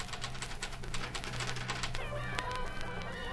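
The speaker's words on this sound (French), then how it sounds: "Les crépitements des machines à écrire d'à côté." Typewriters clatter in a neighbouring office, a rapid, uneven patter of key strikes that comes through faintly, with a hum underneath.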